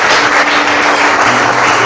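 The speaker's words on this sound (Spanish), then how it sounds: "Fuerte esas palmas para Cristo." A church congregation clapping for Christ, a loud, close burst of rapid, dense applause with a faint sustained musical tone beneath it.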